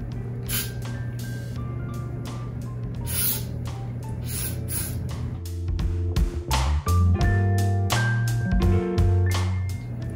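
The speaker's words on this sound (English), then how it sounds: "I'm just gonna put some more spray." An aerosol spray is applied to a straight 4x4 closure wig during installation in a series of short, sharp hissing bursts over a low steady hum, with faint handling noises near the end.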